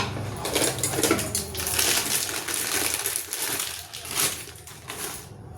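Tamarind, small ginger pieces, turmeric, salt and jaggery tip into a pot for rasam, giving a steady close rattle and clatter of ingredients against metal that runs throughout with slight sloshing.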